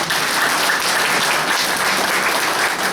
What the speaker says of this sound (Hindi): तालियां बजा करके इस बात का स्वागत करेंगे